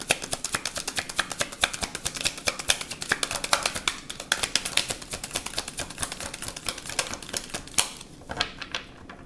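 Tarot cards riffle and shuffle in quick, dense bursts of crisp snapping and flicking, close and continuous before tapering off near the end.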